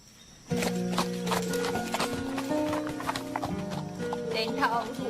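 Horse hooves clip-clop in a quick, irregular rhythm close by, starting abruptly and continuing under overlapping speech and music-like tones.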